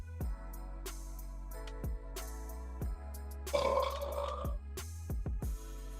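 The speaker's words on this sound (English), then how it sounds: "Give me a burp." A short burp stands out in the middle, a single rough gurgle over a steady hum with low thumps around it.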